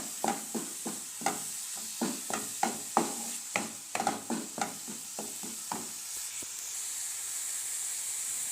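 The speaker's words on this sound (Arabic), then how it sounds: "هنا كتشحر البصله ديالنا" Onions frying in a pan sizzle steadily while a utensil stirs them in a run of sharp, evenly spaced scraping taps. The stirring stops near the end and only a softer continuous hiss remains.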